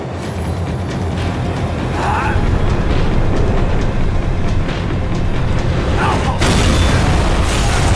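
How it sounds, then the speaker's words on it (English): A loud, steady low-frequency rumble of a tram slowing down in Max Payne 3, with a brief metallic squeal midway and a swell of noise toward the end. "The tram was slowing down"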